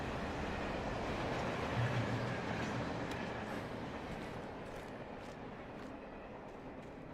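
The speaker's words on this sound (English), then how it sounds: "A train." Train rolling by in the video game Alan Wake Remastered, a broad rumbling wash with faint rail clatter that slowly fades over several seconds, no voices present.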